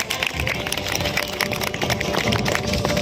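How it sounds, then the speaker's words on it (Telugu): A crowd of children at a karate event claps loudly, giving a dense, continuous crackle of hands close by for a few seconds. "గట్టిగా క్లాప్ చేయాలి. Big clap."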